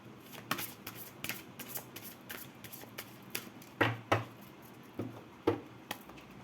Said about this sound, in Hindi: ये काफ़ी बड़े कार्ड्स है गाइड, शफल करने में दिक्कत होती है